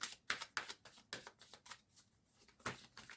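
Tarot cards are shuffled and drawn in quick, soft riffling bursts close by, a rapid run of papery flicks and slaps with brief pauses between.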